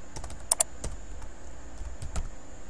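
Keys clatter on a computer keyboard in short irregular bursts of typing, close and fairly quiet, with a couple of sharper key strikes and no talk.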